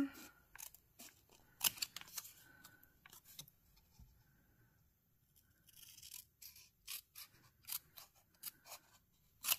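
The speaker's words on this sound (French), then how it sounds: "on vient découper l'étiquette" Scissors snip out a label in a quiet room: a string of crisp, close clicks and cuts comes in short bursts, separated by brief pauses and faint rustling.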